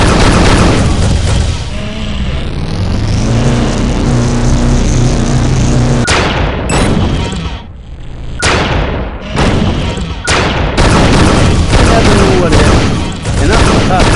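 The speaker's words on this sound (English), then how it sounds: "Give the alternative fire a try. It builds up a charge and then releases a bigger blast." Dispersion Pistol in Unreal 2 charges up and lets off a bigger alternate-fire blast, heard as loud repeated booming bursts and thuds against dense game noise, with a voice talking over part of it.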